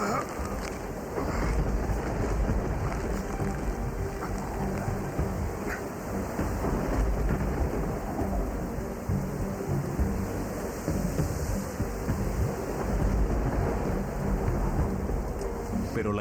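A relentless thunderstorm pounds down with heavy, continuous rain, a dense roaring wash that holds steady throughout with low rumbling beneath and no pauses.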